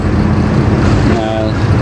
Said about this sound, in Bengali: নিয়ে যাওয়ার জন্য আরেকটা বাস আইতেছে।